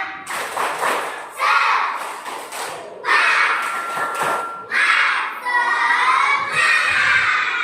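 Primary school children do a spirit clapping chant together in loud bursts of rhythmic claps and shouts, a group sounding close and lively.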